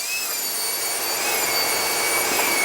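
Router fitted with a bearing-guided bit takes a heavy cut through MDF in a woodshop, a steady loud high-pitched whine with dense cutting noise throughout and no talk.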